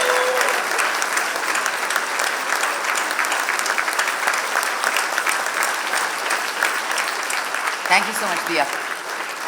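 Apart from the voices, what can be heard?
audience applause at awards ceremony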